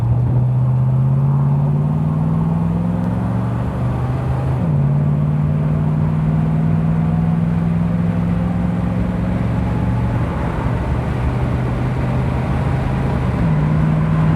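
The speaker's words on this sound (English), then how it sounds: "see if you can hear me going through the gears" A 1968 Mustang luxury convertible with GT options pulls away from a standstill and accelerates through the gears, its engine note climbing steadily and then dropping back at each shift, loud and close throughout with no talking.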